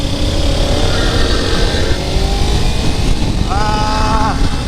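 A Ducati Panigale 300 motorcycle at full throttle, a loud engine roar with rising pitch sweeps through the gears, heard close amid heavy wind rush.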